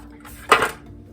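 Metal freezer-meal pans are handled in a home kitchen, giving a single short clattering clank at close range followed by quiet, with no talking.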